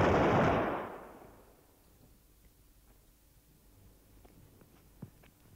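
A weapon fires on an army weapons testing range, one loud booming report right at the start that decays within about a second into quiet outdoor ambience with a few faint clicks.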